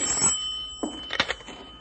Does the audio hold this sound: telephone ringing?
yes